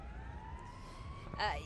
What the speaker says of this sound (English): those are sirens coming from where we are located downtown here. Some fire trucks and ambulances are leaving the downtown area.